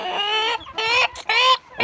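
A hen clucks loudly and close by in four harsh, drawn-out calls separated by brief gaps, with no talking over them.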